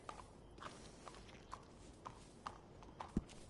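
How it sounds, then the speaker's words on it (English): Horse hooves clip-clop at a steady walking pace in a video game, evenly spaced soft clops about every half second, fairly quiet with one heavier thud near the end. "That horse doing all right?"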